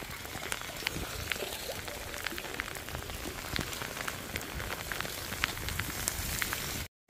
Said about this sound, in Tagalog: kasi basang-basa na ako sa ulan